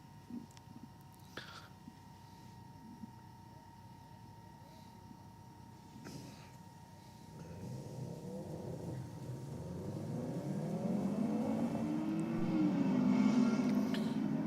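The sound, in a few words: Subaru race car accelerating down the drag strip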